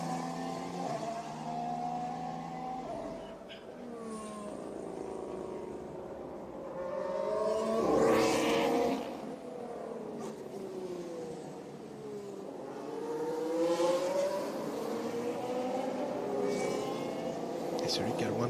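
Formula 1 cars circulate in qualifying at the 2019 Abu Dhabi Grand Prix, engines whining as they rise and fall in pitch while passing, heard faintly beneath steady commentary.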